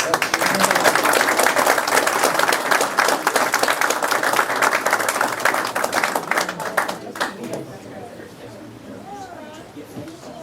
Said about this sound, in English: You can applaud now, actually.